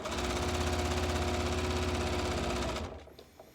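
A sewing machine runs steadily as it stitches a seam, a loud continuous motor hum with a rapid needle chatter for nearly three seconds before stopping abruptly.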